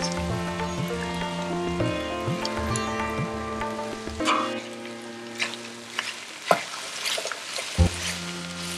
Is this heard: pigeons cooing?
no